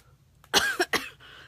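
A person who is sick gives a short fit of two or three close, harsh coughs in quick succession, alone over faint background hum.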